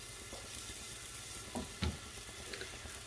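Red onions fry in hot oil, a steady close sizzle with a few louder stirring knocks and scrapes, no talking.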